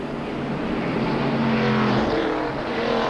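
NASCAR stock cars race up the hill at Suzuka in 1996, a steady, dense roar of several engines heard at a distance in a broadcast recording with no commentary over it.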